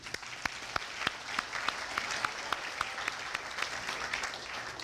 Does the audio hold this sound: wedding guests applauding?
yes